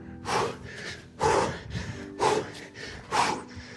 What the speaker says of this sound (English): double exhale